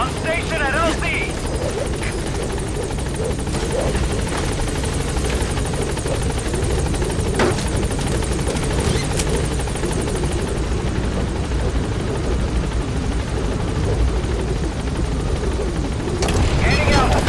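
The Pequod helicopter in Metal Gear Solid V arriving at a landing zone, a loud continuous rotor chop and engine drone close by, with game voices speaking over it and a few sharp bangs.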